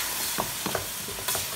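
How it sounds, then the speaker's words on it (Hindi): Spices for a Lahori chicken and chickpea curry are sautéed in a pan under a steady, fairly quiet sizzle, with a few soft scrapes and taps from stirring. "इसके साथ इसको थोड़ा सा भूनेंगे"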